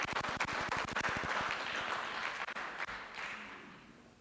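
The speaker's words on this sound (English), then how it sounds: "you can all give yourself a hand of applause" A community audience at a municipal council address applauds, a dense burst of many hands clapping in a quick, even rhythm that thins out and fades over a few seconds.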